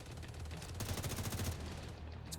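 Rapid automatic gunfire in The Division 2 video game, a dense burst of repeated shots that peaks in the middle and then tapers off, with no talk.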